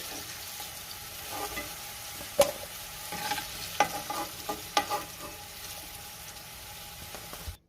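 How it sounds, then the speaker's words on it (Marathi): Potatoes sautéing in hot oil in a pan for okra bhaji, a quiet steady sizzle broken by a few sharp scraping stirs of a spatula, close, no talking. "बटाटा 3 ते 4 मिनिटं तेलावरती चांगला परतून घेणार आहे।"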